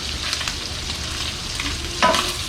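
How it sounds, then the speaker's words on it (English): Butter melting and sizzling in a frying pan while making Southern gravy, a soft continuous close sizzle with a brief clatter near the end. "we got our butter. We're going to add that in quick. Let that melt."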